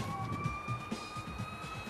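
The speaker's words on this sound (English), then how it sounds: "Listen to the siren." Emergency vehicle sirens wail across a city street, steady rising and falling tones held throughout, with low traffic rumble beneath and no talking.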